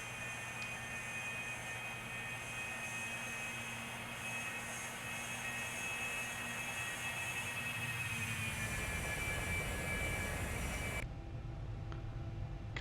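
Cessna Citation II S550 business jet in a flight simulator game, taking off and climbing: a steady, loud jet engine roar with a whining tone that holds throughout, then the cockpit sound changes abruptly near the end, with no talking.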